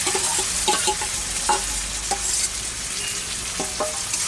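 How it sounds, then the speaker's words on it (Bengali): Marinated chicken frying with fried onions in oil, a constant close sizzle broken by repeated scraping and knocking as a spatula stirs the pan. "পেঁয়াজটা প্রায় ভাজা হয়ে গেছে এখন এর মধ্যে ম্যারিনেট করে রাখা মাংসটা দিয়ে দেওয়া হলো"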